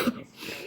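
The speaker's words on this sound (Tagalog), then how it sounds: "Ayan, ubo ang lumabas." A single short cough from a person, close and fairly quiet, a brief burst that fades quickly.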